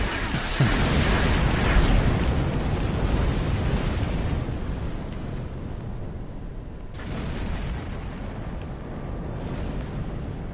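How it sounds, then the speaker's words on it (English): Ship cannons firing in the space combat video game Star Trek Online make a dense, continuous roar of booming bursts that stays loud and steady throughout with no talk. "That's why I love cannons."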